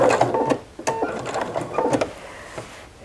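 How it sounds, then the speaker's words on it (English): A sewing machine stitching a fall oven mitt, running in short repeated bursts of rapid needle clatter separated by brief pauses, close and moderately loud. "stitch across the bottom and then turn it and stitch up towards the top edge"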